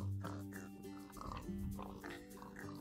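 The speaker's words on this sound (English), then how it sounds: "The pig is so annoying." A Minecraft pig oinks with short nasal grunts, repeated a few times close up, mixed with people talking over the game.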